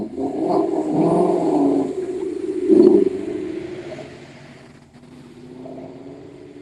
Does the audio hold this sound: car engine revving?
yes